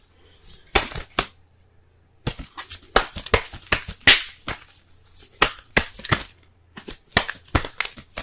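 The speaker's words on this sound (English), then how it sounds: "Let's go ahead and pull some Romance Angels cards for y'all this week." Tarot cards shuffled by hand, a series of crisp riffling and snapping bursts at an irregular rhythm with short pauses, close and clear, no talking.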